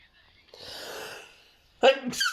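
One sneeze bursts out as a breathy rush, followed by a sharp vocal outburst as a person reacts, all close and fairly loud.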